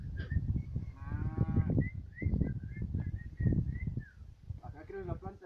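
A cow lows repeatedly close by on a farm, several drawn-out moos threaded between a man's Spanish speech and a distant bird call.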